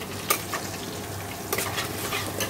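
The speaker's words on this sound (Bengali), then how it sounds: "আর এই দেখো আমি ফোড়ন দিয়ে দিয়েছি, গোটা গরম মশলা, জিরে, শুকনো লঙ্কা দিয়ে পেঁয়াজটা দিয়ে ভাজছি" Onions, whole garam masala, cumin and dried red chillies sizzle and crackle in hot oil, a steady frying hiss broken by a couple of stirring scrapes.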